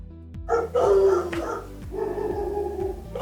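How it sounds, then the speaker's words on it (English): Several dogs bark indoors in a loud, overlapping burst, with a sustained howling yelp among the barks and a steady low mechanical hum beneath. "Oh, I'm so over these dogs."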